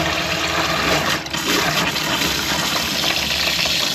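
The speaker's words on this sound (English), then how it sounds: "let's put the pump on and try the hot water" Hot water runs from a tap inside a van while the water pump is on, a loud steady gushing rush close by with a brief dip partway through.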